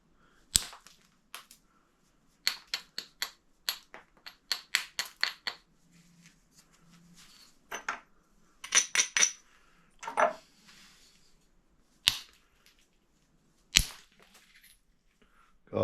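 Sharp, dry cracks and snaps of breaking chert ring out in irregular bursts, some in quick clusters, others single loud pops with quiet gaps.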